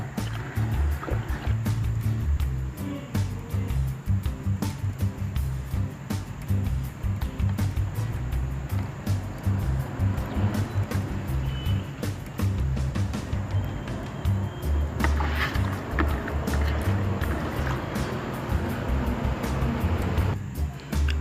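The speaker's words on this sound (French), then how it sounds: "Rincez les graines et répétez l'opération 4 à 5 fois." Grain seeds being rinsed in water by hand, with continuous sloshing and swirling splashes close up, quiet and steady throughout.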